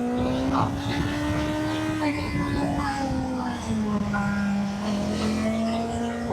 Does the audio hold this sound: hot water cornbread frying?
no